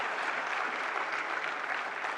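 An audience at an intellectual property conference award ceremony applauds an honoree, producing a continuous, even round of many hands clapping at moderate loudness with no voices over it.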